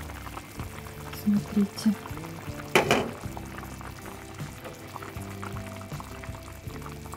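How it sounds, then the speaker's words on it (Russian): Chicken legs in gravy simmer under a lid, a soft bubbling stew with a few louder liquid bursts and a brief clatter, while a voice speaks briefly. "Так, наши окорочка тушатся."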